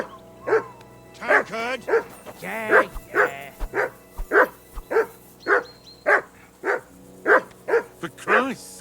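A dog in Kingdom Come Deliverance 2 barks repeatedly in a steady, insistent series of sharp close barks, with a voice speaking briefly over them.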